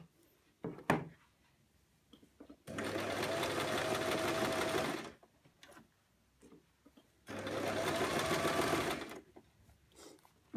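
Sewing machine hemming the edge of a gathered ruffle skirt, two bursts of fast steady stitching of about two and a half seconds each, separated by quiet pauses with small handling clicks.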